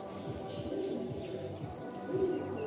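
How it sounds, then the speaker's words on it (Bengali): Madrasi tournament pigeons, a male and a female, give low, repeated throaty coos close by over a steady background hum in a continuous, moderately loud run. "এই ফুলসাটা হলো নর পায়রা, আর এটা হচ্ছে মাদি পায়রা"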